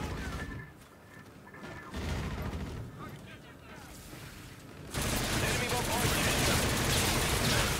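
Automatic gunfire in the shooter Call of Duty: Infinite Warfare: muffled distant shooting at first, then a sustained, louder burst of rapid fire near the end, with a player talking over it.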